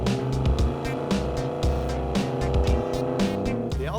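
A Ford Ranchero drives along a highway on the way to Alaska for ice racing, its engine droning loudly with shifting pitch and rhythmic pulses that suggest revving or gear changes.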